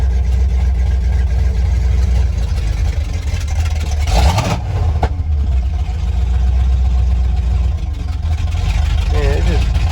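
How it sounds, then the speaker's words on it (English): A car engine fitted with a Holley 4-barrel carburetor idles steadily and close by, a continuous low rumble with a brief disturbance near the middle and faint talk in the background. "Oh, he's running now. One thing I'm going to note is the idle changed a lot when I did that."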